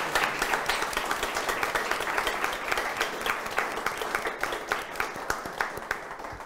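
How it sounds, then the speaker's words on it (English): Audience at a Labour Party Conference panel on sustainable development applauds the panelists, a steady wash of clapping with individual claps standing out near the end, no talk over it. "please, just give them a round of applause"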